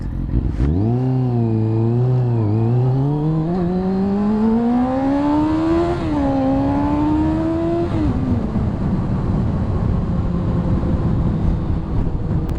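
Engine of a motorcycle bought for £1,200 during a ride, revving up and down through gear changes as pitch climbs and drops, steady and loud with wind rush, no talking.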